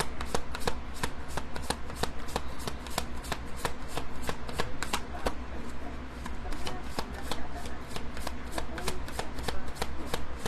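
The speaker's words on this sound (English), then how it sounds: "So I'm just going to pull a card for anyone here within the collective." Angel message oracle cards are shuffled in a steady run of quick, crisp riffling slaps that repeat evenly for about ten seconds, close up and with no talking.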